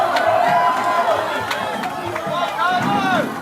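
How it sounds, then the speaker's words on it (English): A crowd at the Clash on the Coast final cheers and murmurs for a competitor's run through the course, a lively babble with scattered shouts sitting under a close commentator's voice. "Can hear that crowd getting behind him because this is a great run for Tyler Young."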